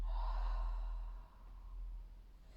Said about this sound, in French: et vous videz vos poumons.